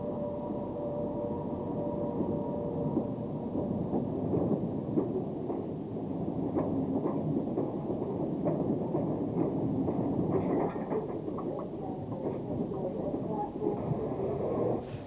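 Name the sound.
Class 76 electric locomotive 26044 at Sheffield Victoria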